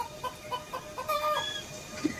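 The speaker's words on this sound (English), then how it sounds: "That was a chicken." A chicken clucks several times in a short, uneven series, fairly close and moderately loud, with no talk over it.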